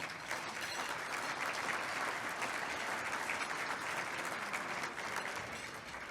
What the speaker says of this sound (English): So a little round of applause, please, for Rotary 710.